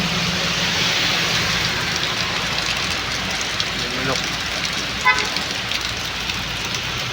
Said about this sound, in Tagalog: sinabot na kami ng ulan